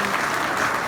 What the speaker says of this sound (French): Vous devez applaudir.